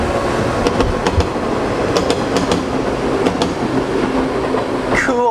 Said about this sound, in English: I actually really like that noise of the train moving by